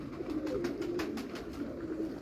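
Pigeons cooing on a rooftop loft, a soft continuous rolling coo with rhythmic pulses, fairly close and alone without talk.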